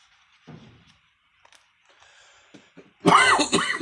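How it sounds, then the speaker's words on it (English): A quiet throat clear, then after a pause a loud, harsh cough burst close to the listener near the end. "Got a cough."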